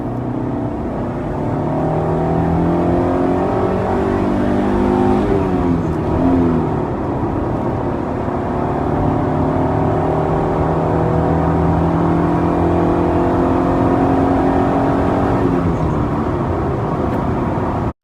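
A 1993 Honda Del Sol SI engine revs up and down repeatedly, its pitch climbing and falling in long sweeps, loud and close with a steady rumbling roar throughout.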